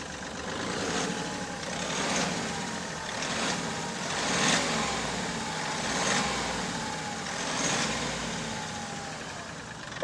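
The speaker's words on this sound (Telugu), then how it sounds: "ఇంజన్ సౌండ్ అయితే చూసారు కదా ఎంత స్మూత్ ఉందో" A Mahindra Veero V6 commercial truck's engine idles smoothly with a low, steady hum and gentle periodic swells, close by and without talk.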